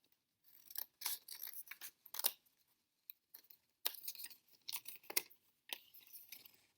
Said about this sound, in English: So I am going to cut this piece all the way off, just like that.